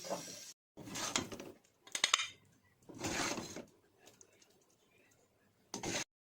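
Cooked pumpkin halwa is served out of a pan, with several distinct bursts of scraping and clinking from a utensil against metal and dishware. Quiet gaps fall between the bursts, and there is no talking.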